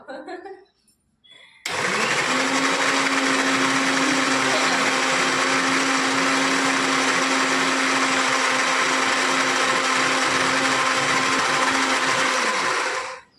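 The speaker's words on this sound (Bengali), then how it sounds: "তাই তো এখন মিক্সিতে বাটবো বাটা হয়ে গেলে তারপর দেখাচ্ছি এই যে মিক্সিতে এখন ঘোরাবো" Semolina batter churns in an electric mixer grinder with a loud, steady high-pitched whir that runs without a break for about eleven seconds after some brief talk and a few clatters at the start, then cuts off.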